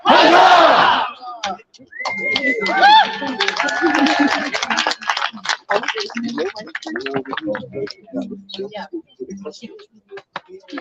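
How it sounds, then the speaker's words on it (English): A crowd at an evening royal court gathering answers a call with three rousing cheers, loud massed shouting in bursts, followed by lingering voices, scattered claps and murmuring chatter. "3 cheers for the newest Kingdom Protector."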